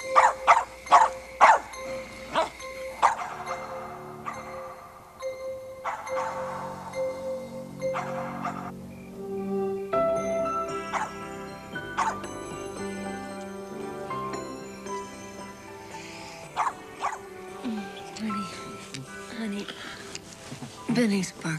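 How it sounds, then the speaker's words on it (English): A dog barks in repeated bursts, most densely at the start, heard among indoor background sounds and a voice talking. "barking again"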